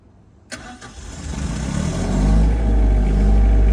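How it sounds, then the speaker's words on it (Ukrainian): A Genmac Shell diesel generator with a DPC 4520 automatic control panel cranks with a sharp click, then catches and settles into a steady, loud, low rumbling idle that grows slightly fuller as it runs. "Так, запускаємо."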